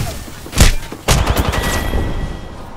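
Video-game gunfire: two loud close bursts of shots, the second followed by a rattling volley that fades into a lingering echo.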